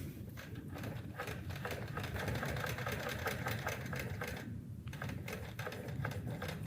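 A sewing machine stitches in the ditch along a quilt seam, its fast needle chatter steady and close, with a brief pause near the end before it resumes.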